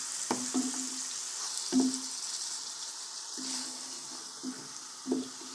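Onions frying in a pot for a traditional Algerian tajine, a steady close sizzle broken by several sharp clinks and scrapes of a utensil against the pot.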